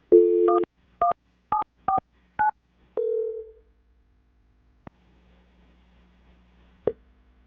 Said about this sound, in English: Dial the phone number right now and get him on the phone.